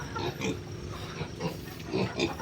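Pigs grunt and oink in short bursts, a few close snorts over a constant background hum.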